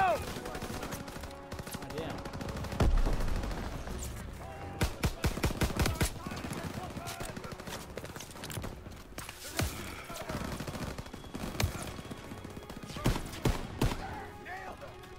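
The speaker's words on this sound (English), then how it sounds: "Open fire!" Rapid gunfire in the World War II shooter Call of Duty: WWII, sharp bursts of shots and automatic fire crackling in clusters throughout, with someone talking over it.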